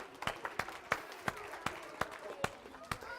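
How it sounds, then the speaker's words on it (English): Sparse, distinct claps ring out one by one at a steady pace, like a small audience at a comedy magic show clapping slowly, with faint murmuring in the background. "Let's give him a round of applause"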